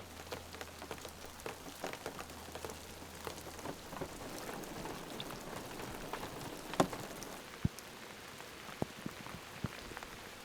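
Steady rain patters on a hand-built camper during a stormy Pacific Northwest night, a dense continuous hiss with scattered louder drops and a few sharp knocks, heard alone without voices.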